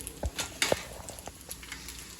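Food cooks in a hot frying pan in a home kitchen, giving quiet, faint crackles and scattered pops with a few louder ticks and no talk.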